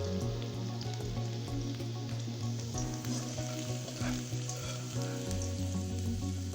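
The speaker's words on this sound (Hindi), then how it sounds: "गाजरों को फ्राई करेंगे" Carrots frying in hot oil for vegetable pulao, a steady dense sizzle with crackling pops, close and continuous throughout without talk.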